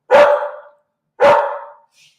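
A dog barks twice, close and loud, each bark sharp with a trailing decay about a second apart, followed by a tiny faint yip at the end.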